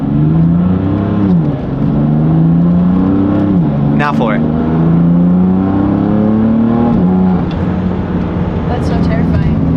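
A BMW M4 Competition engine revs loudly and pulls hard, with rising and falling pitch sweeps as it accelerates and drops through a downshift, continuous and close under excited talk throughout.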